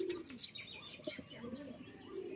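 Golden-eyed black-bead pigeons, an imported non-Kolkata breed, coo in low repeated rolling calls close by, with faint chirps and a brief flutter of wings mixed in.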